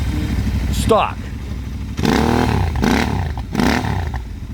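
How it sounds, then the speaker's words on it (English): A Royal Enfield motorcycle engine idles with a deep, loping thump close by while someone talks over it. "5 running Royal Enfield motorcycles"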